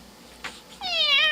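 A cat meows from inside a box in a room, a single drawn-out, rising and falling meow that comes through clearly after a brief soft rustle.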